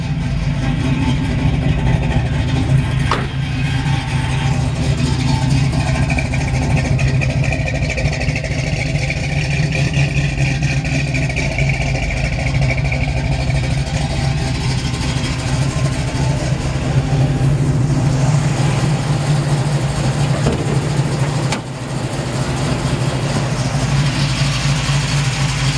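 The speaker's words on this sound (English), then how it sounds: "Long tube headers, Flowmaster exhaust." A 1972 Chevrolet Camaro V8 with long tube headers and Flowmaster exhaust rumbling at idle with a deep, throaty exhaust burble, occasionally swelling as it revs, close by and loud.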